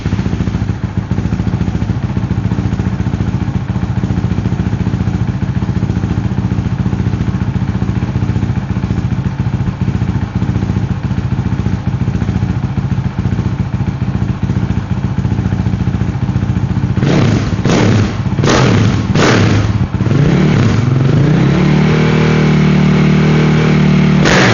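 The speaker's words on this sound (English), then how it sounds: "I absolutely love it. It sounds mean as. It might be too loud" Honda CRF450RL motorcycle engine with a stage 2 tune and aftermarket exhaust, loud and close, holding a rough steady idle before a few sharp throttle blips and revs near the end.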